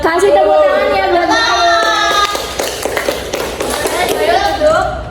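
Children in a classroom clap briefly to praise a classmate's correct answer about metamorphosis during a teaching lesson. A close, lively burst of claps comes mid-way, with children's voices and chatter before and after.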